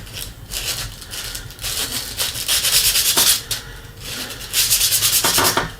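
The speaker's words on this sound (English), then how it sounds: "a little bit of sanding." Repeated rough back-and-forth sanding strokes on a small paintbrush handle, close and scratchy, in uneven bursts with brief pauses between.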